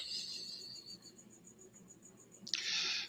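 A cricket chirps in a steady high trill that is faint but clear over a quiet background, then a louder, closer burst of chirping comes near the end.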